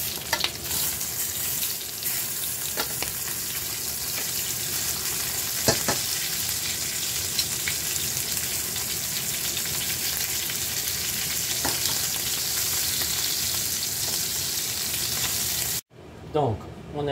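Rabbit pieces and potatoes fry in a pan with a loud, continuous sizzle and occasional stirring clatter, cut off briefly near the end.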